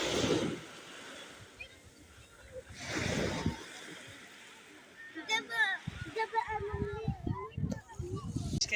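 Morning sea surf breaking along a rocky shore, with wave wash swelling and fading in the background while people talk over it near the microphone, with wind buffeting at times.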